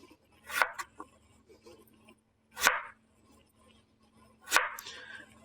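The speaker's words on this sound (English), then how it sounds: "So I put my knife 1/8 of an inch and move forward and cut slices of 1/8 of an inch." A kitchen knife cuts a potato into thin 1/8-inch slices: three crisp chopping strikes spaced about two seconds apart against a cutting board, each with a short scrape, in an otherwise quiet room.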